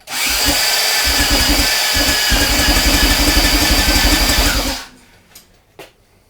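A power drill whirs loudly for several seconds, cranking an engine over for a compression test with a rhythmic chugging pulse, then stops abruptly, leaving a few faint clicks.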